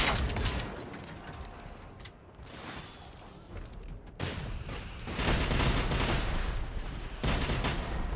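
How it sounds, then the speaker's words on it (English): Gunfire from the video game Generation Zero: a dense, sustained battle of shots and mechanical clatter, loud and continuous with brief lulls near two and four seconds, no voices. "You're still shooting at me?"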